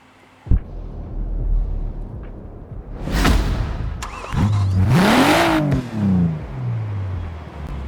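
A BMW M4 Coupe engine cranks and fires up, then revs loudly several times in rising and falling bursts, close by and with no talking.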